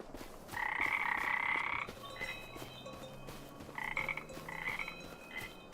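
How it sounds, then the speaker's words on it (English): Frogs croak at a springtime farm pond in the video game Farming Simulator 25, giving bursts of raspy, rhythmic calls: one long chorus, then a pause, then several shorter croaking phrases over soft ambient background. "our frogs should be back, seeing that we're in springtime"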